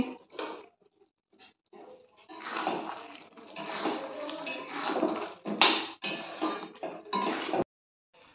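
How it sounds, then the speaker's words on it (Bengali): A pot lid comes off a simmering chicken kosha and the pot is stirred, giving wet scraping and clinking of a spoon against metal close by, in uneven bursts with short pauses between them. "আবার 5 মিনিট পর আমি ঢাকাটা সরিয়ে একটু নেড়ে দেব।"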